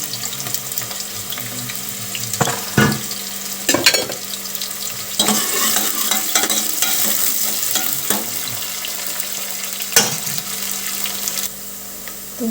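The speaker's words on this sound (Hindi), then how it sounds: "मैंने तेल डाल दिया इसमें और मेरा तेल अब गर्म हो चुका है। तो मैं प्याज डाल देती हूँ।" Chopped onions frying in hot oil in a home kitchen pan, a steady loud sizzle running throughout with occasional sharper crackles and stirring clatters, no talking.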